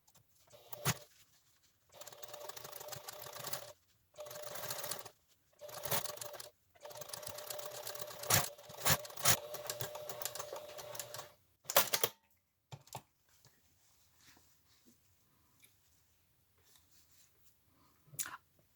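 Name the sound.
sewing machine topstitching a fabric face mask seam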